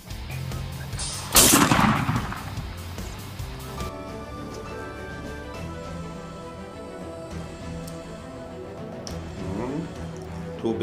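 A single loud gunshot cracks out during an outdoor turkey hunt. The sharp blast is followed by a decaying echo and quieter ambient sounds for several seconds, with no speech.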